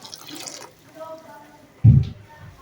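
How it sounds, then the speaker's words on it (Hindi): A glass of water is poured into a pot of meat and rice for Charsadda-style rice, giving a brief, close splash and gurgle after a few soft kitchen clinks and quiet bubbling. "मैं बीच में 1 गिलास पानी डाल रहा हूँ"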